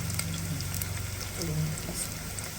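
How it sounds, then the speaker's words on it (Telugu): Onions frying in a pan for mutton paya soup, a soft continuous sizzle with faint stirring, close and steady. "ఉల్లిపాయ కొంచెం వేగాలి"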